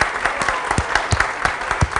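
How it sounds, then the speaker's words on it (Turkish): Steady applause from a TV studio audience, a dense patter of clapping hands that continues evenly throughout. "Alkışlarla veda ediyoruz Rayna'ya"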